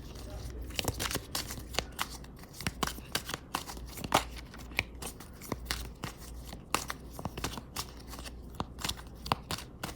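Tarot cards being shuffled, a rapid irregular run of crisp flicks and slaps with cards flying out, close and fairly quiet, continuing steadily throughout.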